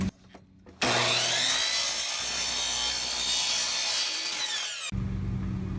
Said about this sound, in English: Now I just need to cut the sides into the required lengths.